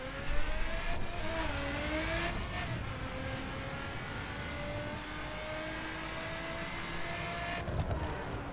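Car engine from The Crew racing game in Los Angeles, a steady droning hum with shifting pitch as the vehicle cruises and accelerates, continuous throughout with no talking.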